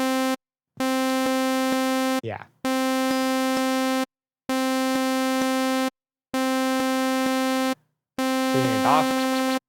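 Pigments synth harmonic engine with its resonance damper engaged plays a steady buzzy harmonic tone in repeated held notes of about 1.5 seconds separated by brief silences, with a short sweeping blip in two of the gaps and a brief spoken word.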